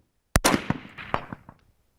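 A single loud rifle shot cracks out at a shooting range, followed by a fading, echoing tail of reflections.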